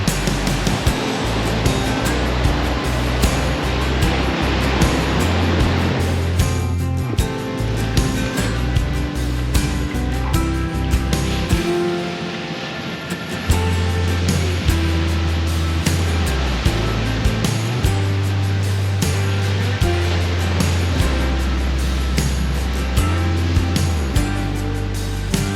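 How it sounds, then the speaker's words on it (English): Ocean waves roll in and break against a rock break wall at Dana Point, California, a loud, continuous wash of surf that swells and falls over the whole stretch, close and steady, with no talk. "it is pretty cool with the break wall and just the waves coming in."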